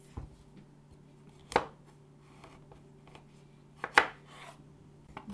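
A knife cuts through an acorn squash in two brief, sharp strokes a few seconds apart, quiet and close, with near silence between.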